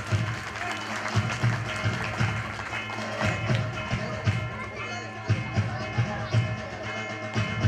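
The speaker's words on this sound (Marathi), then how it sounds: "याच्यासाठी जोरदार टाळ्या झाला पाहिजे" Applause at a prize-giving felicitation during a religious discourse event in Pimpalgaon, a steady patter of many hands clapping with rhythmic claps and talk mixed in.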